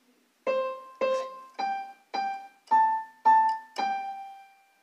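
A keyboard plays the opening notes of Twinkle Twinkle Little Star, seven separate notes struck at an even pace, each ringing and decaying, the melody rising in pairs and stepping back down, heard alone without talk.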